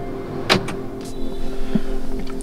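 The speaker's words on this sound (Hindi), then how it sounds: "बट ये कार ऑन हो रही है।" An MG Astor car starting remotely from a smartphone app: a sharp click or clunk, then a rising electric hum and faint whir as systems power on, close by with no talk.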